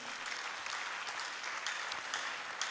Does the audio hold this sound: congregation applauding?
yes